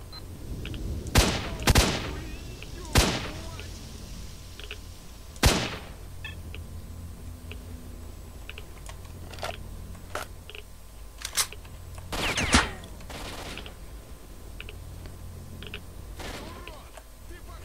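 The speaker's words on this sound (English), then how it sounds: "Please don't shoot at me from there." Gunfire in the video game S.T.A.L.K.E.R. Shadow of Chernobyl: scattered sharp shots, some in quick pairs, spread across the stretch with quieter pops between, while a person talks.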